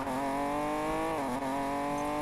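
Nissan 240Z engine in Need for Speed Payback, maxed out with heavy NOS, drones at a steady high pitch that dips briefly and recovers, loud and close with no talk.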